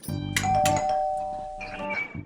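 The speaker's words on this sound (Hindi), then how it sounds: "घंटी बज रही है, आते हैं।" A household doorbell rings a clear ding-dong chime with a ringing tone that sustains and fades, followed by a softer second chime. It is close and fairly loud, with no talk over it, in a comedy series.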